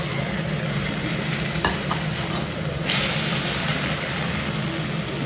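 Chicken frying in a pan, a loud continuous sizzle with a brief clink partway and a sudden surge of hiss near the middle, close and without voices.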